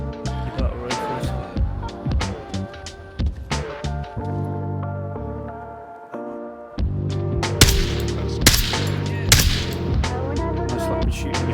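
A G3 7.62 battle rifle fires in the VR shooter Onward, with sharp single shots and short clusters of cracks spread over a steady game hum, close and loud.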